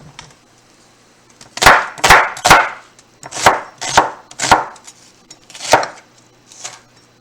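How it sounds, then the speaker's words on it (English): Onions being chopped on a cutting board into chunky pieces, knife strikes landing in short irregular bursts of two or three sharp, close thuds with brief pauses between, no voices. "let's do a basic cut on these onions so it's not too much"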